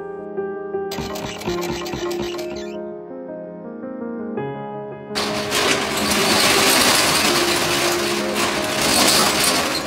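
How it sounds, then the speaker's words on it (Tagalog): A sewing machine at a market stall in Manolo whirs and hums steadily, with a metallic tonal drone, joined halfway through by louder broadband mechanical noise that continues to the end. "Hindi malalakas na boses o ingay ng mga nagtitinda, kundi tunog ng makina."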